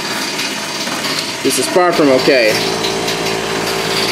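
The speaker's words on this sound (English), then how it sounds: "Sorry about the compressor noise in the background." An air compressor drones steadily in the background while someone speaks over it.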